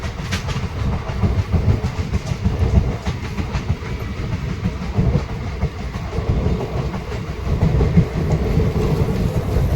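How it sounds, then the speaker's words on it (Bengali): The Rampurhat–Howrah Sahid Express rumbles into Sainthia Junction, a loud, close, continuous rolling roar with rhythmic wheel clatter over rail joints. "ট্রেন তার ফার্স্ট হল্ট সাঁইথিয়া জাংশন পৌঁছে গেছে।"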